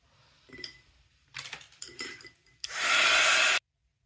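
A hair dryer blows steadily and loudly for about a second to dry gray-blue acrylic paint mixed with gel medium, following a few soft clinks and handling noises.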